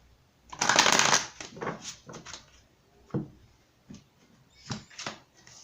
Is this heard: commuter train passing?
no